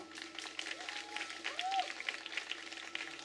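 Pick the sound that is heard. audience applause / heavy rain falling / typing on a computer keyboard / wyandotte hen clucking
audience applause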